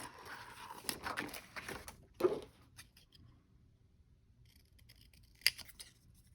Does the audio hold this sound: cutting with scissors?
yes